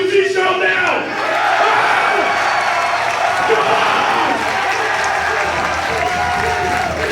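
A wrestling crowd at a PWG show roars and cheers loudly and continuously in response to a wrestler on the microphone, a dense sustained wall of shouting voices.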